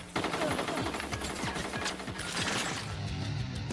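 Rapid bursts of anime gunfire ring out continuously and loudly, dense volleys of shots layered over a busy action soundtrack with no clear talk.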